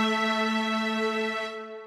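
Two steady sustained tones a twelfth apart, in a 3-to-1 frequency ratio, sounding together as a bright harmonic-rich chord for almost two seconds before fading slightly at the end.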